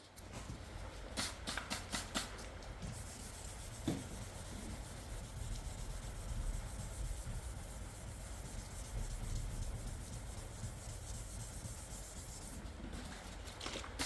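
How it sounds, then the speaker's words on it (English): Wet sanding of car paint with 1500 grit paper on a rubber block, knocking down excess touch-up paint over a deep keyed scratch: a steady, continuous abrasive rubbing with brief scuffing strokes at the start and end, close and moderately loud. "that's sanding down the excess paint pretty good"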